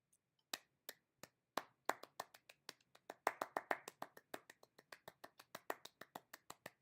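Hands clap sharply in a quiet room, starting with a few spaced claps and quickening into a fast, steady run of crisp, close claps.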